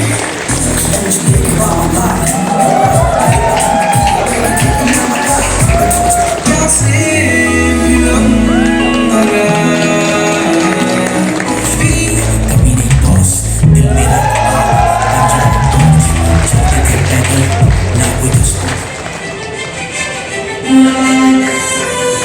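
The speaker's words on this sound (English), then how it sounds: "Keep your applause going, please." Live audience at an award show cheering, shouting and whooping with applause throughout, a loud dense crowd roar sustained over the whole stretch.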